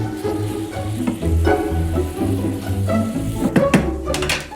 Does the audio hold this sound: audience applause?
no